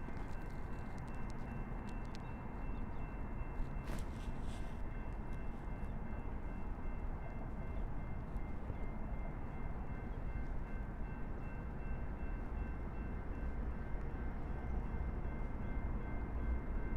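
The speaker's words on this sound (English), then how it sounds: "I hear a train coming through" A steady, rumbling train passes close by in foggy downtown Minneapolis, its low roar and rattling wheels holding constant throughout with a brief high squeal partway through.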